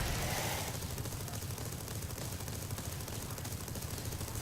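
A magnetic turret firing in TerraTech, a dense, continuous crackling barrage of rapid shots that starts a bit louder and then holds steady, with no talking over it.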